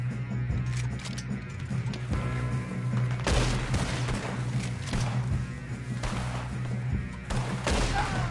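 Red Dead Redemption 2 gunfight: repeated gunshots, thuds and crashing impacts come in bursts over a steady low hum and background din, fairly loud throughout.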